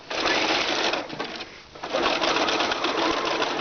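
Sewing machine zigzag stitching along the edges of fabric underlining, a steady, close, fast motor whir with rapid needle chatter that dips briefly in the middle before resuming.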